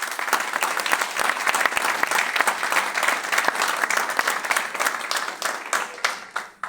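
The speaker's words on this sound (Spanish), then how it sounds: "Aplauda a Cristo." Church congregation applauding together during a Spanish-language sermon, a dense, steady wash of many hands clapping at full strength that tapers off near the end.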